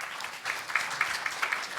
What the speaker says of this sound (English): Yes, you're supposed to clap.